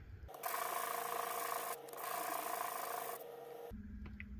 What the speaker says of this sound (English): I'll finish out on a flat surface with sandpaper.